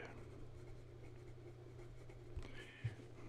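Steel Jowo medium nib on a fountain pen gliding across paper, a soft continuous scratchy writing texture with a couple of small taps near the end, close and quiet.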